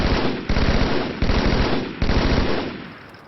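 Rapid automatic gunfire in the Halo 2 video game, several sustained bursts of dense, loud shots broken by brief gaps from reload-cancel button combos, no talking.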